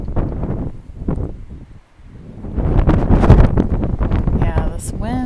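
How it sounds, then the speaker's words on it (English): Wind gusting on a mountain trail near Lake Tahoe, buffeting the microphone in uneven loud rushes that dip briefly then build again, with a person talking over it. "Yeah, this wind, got weather coming in."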